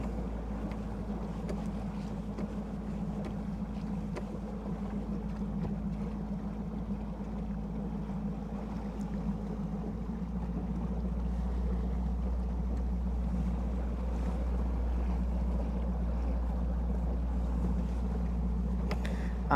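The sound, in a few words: fishing boat motor cruising on Lake Guntersville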